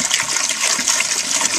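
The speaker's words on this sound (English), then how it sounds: "I'm going to go ahead and try and just pour it out." Water pours out of a plastic water jug that has been shot through with a .177 pellet, a steady broadband splashing gush running close and loud for the whole moment with no talk.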